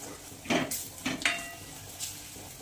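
A pan of turmeric and red chili masala being stirred over a low flame for a quick dahi tikhari: a few distinct metallic scrapes and clinks of a spoon against the pan, with a faint sizzle beneath and no talk.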